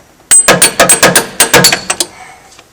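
Rapid series of about a dozen sharp metallic hammer blows driving a socket down onto a stud on a John Deere 624K loader, loud and close, tapering to lighter taps before stopping.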